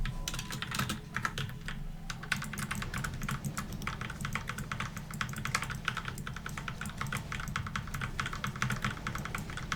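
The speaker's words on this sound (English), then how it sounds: "that keyboard smashing sound" A computer keyboard hammered loudly during World of Warcraft play on a Warmane Icecrown 3.3.5 server, with a rapid, continuous clatter of sharp keystrokes over a low background hum.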